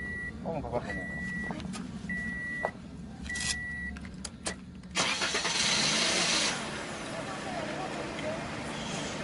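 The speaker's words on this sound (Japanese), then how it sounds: "ちょっとエンジンかけてみて。" A car's engine cranks and catches after a repair attempt in Japan, starting around midway and settling into a steady running roar, preceded by repeated electronic beeps and clicks.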